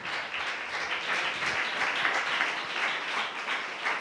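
A Tamil church congregation claps enthusiastically, producing a thick, steady stream of overlapping handclaps that holds at an even level throughout.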